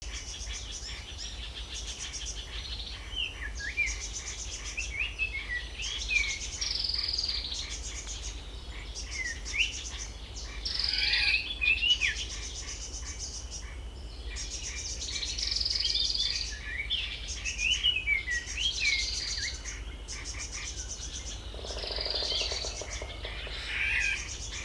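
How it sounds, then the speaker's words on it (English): Chorus of bird calls beneath the forest canopy on Pulau Ubin, Singapore: repeated high chirps, whistles and trills overlapping continuously over a steady insect buzz, moderately distant, with no voices. "Quite the selection of bird calls."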